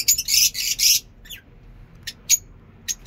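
Lovebirds chirp in bursts of high, sharp tweets, a cluster of rapid calls then scattered single chirps, nearby against a quiet background, in a mini zoo enclosure.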